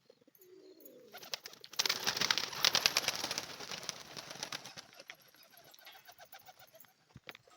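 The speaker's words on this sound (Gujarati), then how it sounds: "આપણા કબૂતર છે" Pet pigeons kept behind a mesh enclosure, a soft cooing followed by a burst of wing flapping and fluttering close by, then quieter rustling.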